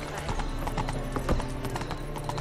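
Horse hooves clip-clopping steadily as Roach is ridden in The Witcher 3 video game, a continuous trotting rhythm of hoof strikes over a low ambient bed, with a brief louder thump partway through.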